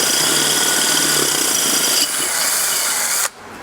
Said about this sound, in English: Let the drill bit do its work.